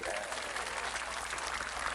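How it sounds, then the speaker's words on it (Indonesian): Audience applause for the regent at a live Islamic religious gathering in Dolopo, Madiun, a steady dense patter of many hands clapping at once, with no talking heard. "Tepuk tangan untuk Pak Bupati."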